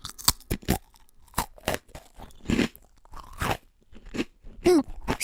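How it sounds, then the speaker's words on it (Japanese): Store-bought hardtack, a dry biscuit, chewed close to a condenser microphone. It gives loud, dry, irregular crunches and grinding chews with short pauses between bites. "これが市販の乾パンの音。"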